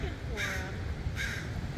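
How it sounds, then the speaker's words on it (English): Agitated crows give two harsh caws about a second apart near a coyote by the Embarcadero, loud over a low outdoor rumble. "when you hear the pissed off crows, there's a coyote around"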